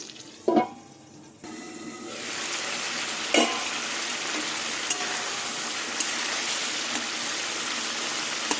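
Spice masala with turmeric and tomato sizzles in a pan, a lid clatters, then steady frying hiss continues with a few stirring knocks, no voices.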